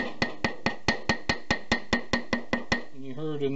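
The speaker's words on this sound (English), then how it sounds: "So now I am going to take my ball peen hammer here." A ball peen hammer taps a bearing seal into a Harbor Freight trailer wheel hub, giving about twelve evenly spaced sharp metallic knocks, close and loud, followed by a brief stretch of someone talking.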